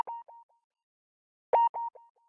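Omnisphere synth using the Maverick Rezo preset plays short, bright, clean tonal blips in two small clusters separated by silence, quiet and dry with no talking.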